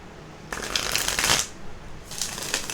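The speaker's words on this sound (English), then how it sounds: "Let's get these cards shuffled up and get it started." Tarot cards riffle-shuffled in two bursts, a long rustling flurry followed after a short pause by a second, briefer run, close and moderately loud with no talking.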